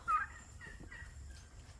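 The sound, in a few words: turkey gobbling on a small farm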